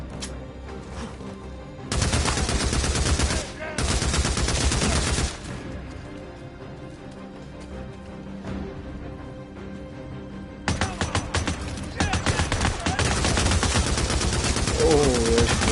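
Shotgun blasts in the video game Days Gone: loud, dense bursts of gunfire around 2–5 s and again from about 11 s, separated by quieter game ambience, with a voice briefly in between.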